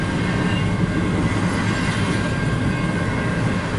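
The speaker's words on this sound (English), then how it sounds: "Here's train number 8." Train rolling past close by with a steady, dense rumble of wheels and cars, constant and loud throughout with a faint metallic squeal on top.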